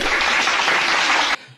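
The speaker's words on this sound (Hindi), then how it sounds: "बजाओ ताली।" A studio audience breaks into loud, steady applause for over a second before it cuts off abruptly, leaving a faint tail.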